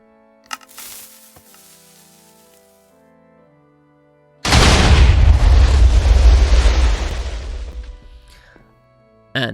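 A TNT blast in Minecraft erupts as one loud, broad rumbling explosion that swells and slowly fades over several seconds, after a quieter stretch with a few faint clicks and tones and another sharp pop at the very end.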